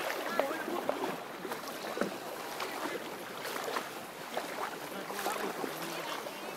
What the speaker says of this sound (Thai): นี่น้ำไหลแรงมากนะครับ ตอนนี้ เดินด้วยความลำบากเพราะน้ำไหลตลอดครับ